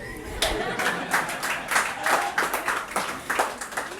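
An audience at a live stage talk in Aligarh claps and applauds, a dense, rippling patter of many hands that swells and pulses steadily for several seconds.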